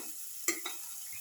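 Red chili dropped into a hot pan for a cumin shallot chili dip gives a brief sizzle with one sharp burst and a smaller follow-up crackle over a faint steady fry.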